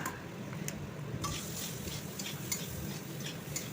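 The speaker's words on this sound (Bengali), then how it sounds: "দেখো আলুগুলোকে আমি লাল লাল করে ভেজে নিচ্ছি" Potatoes frying in a pan until browned for a potato and paneer dish, a steady broadband sizzle with a few utensil scrapes and stirring knocks, close and continuous, no talking.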